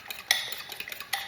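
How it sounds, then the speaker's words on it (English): Eggs whisked in a bowl, a utensil tapping and clinking against the sides in quick, uneven strokes, fairly close and quiet with no talking. "So, now that we're whisking"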